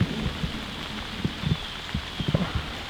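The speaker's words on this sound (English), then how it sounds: "We'll see if the rain lets up today or if I gotta wait till Sunday." Rain falls over a vegetable garden with Malabar spinach, a soft, steady patter dotted with scattered nearby drop impacts.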